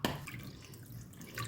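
Water poured into a cooking pot for a millet and green gram kichadi, a short splashing trickle that starts with a brief slosh and then runs on softly, with no voices.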